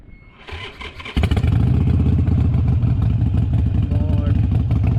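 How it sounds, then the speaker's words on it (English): A Harley-Davidson Iron 883 motorcycle cranks after a brief quiet moment, then catches and settles into a loud, close, lumpy idle with a steady thumping beat through raw exhaust. "let's start her up"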